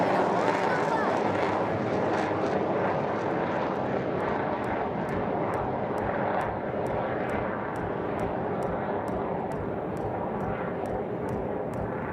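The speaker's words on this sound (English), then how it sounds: "And there he inverts the aircraft and will bring her back through the vertical." A propeller-driven aerobatic plane at the Aero India air show drones steadily overhead as it flies and rolls inverted, a loud continuous engine roar with a commentator talking over it.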